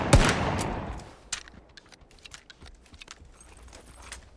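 A single sharp VSS rifle shot in a shooter game, with a loud crack at the start whose tail fades over a second, followed by scattered faint clicks and taps.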